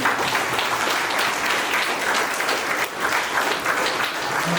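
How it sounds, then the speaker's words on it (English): Students at a Grade X felicitation ceremony at Loyola School, Sitagarha, give their teachers loud, sustained applause that fills the room continuously and stays dense throughout. "let's give them a thunderous applause for all your teachers"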